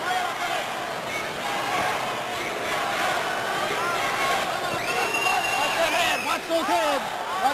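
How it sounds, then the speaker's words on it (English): A boxing arena crowd in a largely Latino East L.A. following roars and chants in a broad, continuous swell, a dense babble of many voices rising toward the end, with a commentator's voice running over it. "The chant you may hear from time to time is East L.A., East L.A."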